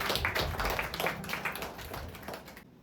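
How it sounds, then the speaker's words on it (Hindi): A church congregation at a Sunday women's service clapping, fairly faint rhythmic hand claps with taps that taper off and stop abruptly at the end. "आइए परमेश्वर के लिए जोरदार ताली बजाएंगे।"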